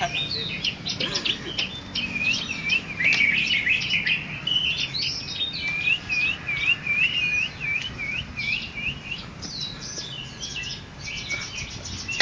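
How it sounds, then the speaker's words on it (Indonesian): A songbird at a bird song contest sings a dense run of high chirps, trills and whistled phrases, close and continuous, with faint crowd chatter underneath. "Wow, ini cakep nih burungnya nih. Oh, gacor."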